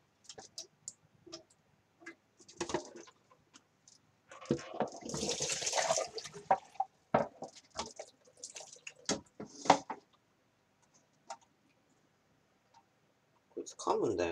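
A live katydid (yabukiri) is rinsed under water, with soft, intermittent splashing and trickling up close as the insect swims about. Someone speaks quietly in Japanese between the splashes.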